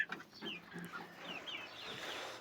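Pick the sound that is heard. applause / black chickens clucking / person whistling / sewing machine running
black chickens clucking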